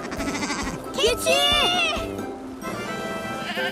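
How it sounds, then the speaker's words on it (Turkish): A cartoon goat gives a loud, wavering bleat near the middle, with animated character voices talking around it. "Me, me diye bir ses duydun mu? Bilki köyün neşeli keçisidir o."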